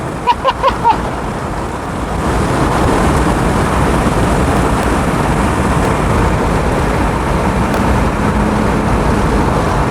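A Mazda Miata GT in motion, engine revs falling away under steady road and wind roar that fills the cabin, loud and continuous, after a few brief knocks at the start.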